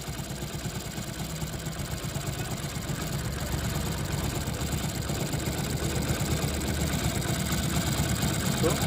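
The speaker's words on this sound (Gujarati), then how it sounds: "ગાડી બંધ ના થવી જોઈએ અને વધારે આઈડર ના રહે એ રીતના સ્ક્રૂ સેટ કરીશું" An old Hero Splendor Plus motorcycle engine idles steadily while its carburettor screw is adjusted, a continuous low mechanical chug that grows slightly louder over the stretch, with no talk over it.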